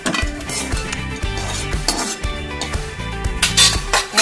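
Metal spoon scraping and clinking against a pan while lifting out coconut fried until dark, a busy run of close, ringing scrapes and taps with no talking.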